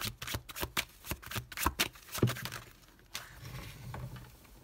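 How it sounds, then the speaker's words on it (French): Tarot cards being drawn and shuffled during a reading, a run of close, crisp riffling and slapping bursts with short pauses between them and no voice. "on va prendre quelques cartes pour clarifier ça"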